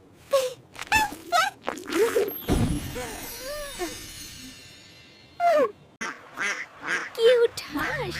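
A cartoon duck quacks and honks in short nasal bursts, several calls spread across the clip, mixed with other animated vocal sounds and a sharp sneeze-like burst in a children's animal story.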